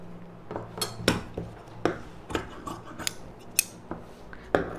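Scissors snipping through folded silk cotton blouse fabric, a string of crisp, close metallic cuts in a steady, slightly irregular rhythm, quiet and alone with no voices.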